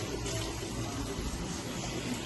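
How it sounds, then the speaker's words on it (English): Tap water pouring into a pan of ackee and saltfish with tomatoes and onions, a steady, full splashing gush that runs continuously and close by, with no talking. "Add a little tap water, not too much for the pan."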